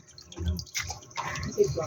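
Water spinach (kangkong) being washed in a basin of water, giving short splashing and sloshing bursts with a faint drip, close and fairly quiet, and no voices over it.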